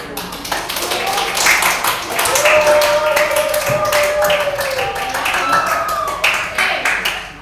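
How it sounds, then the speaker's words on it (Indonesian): A classroom group claps together, a dense patter of hand claps lasting several seconds while a voice speaks over the applause. "kita beri tepuk tangan untuk kita semua"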